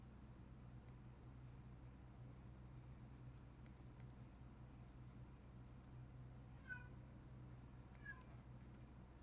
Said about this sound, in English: If you hear a meow, that's my cat.